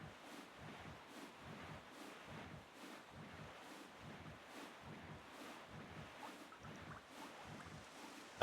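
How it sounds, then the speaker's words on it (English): A sailboat glides across open sea in The Legend of Zelda: The Wind Waker HD, rhythmic wave swells washing past at a steady pulse with soft wind noise, faint and without speech. "Unfortunately, we have to sail all the way to Bomb Island."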